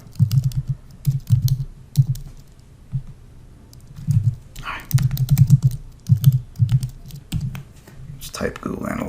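Computer keyboard typing, bursts of quick clicking keystrokes in several short runs, close and fairly loud, with talking mixed in.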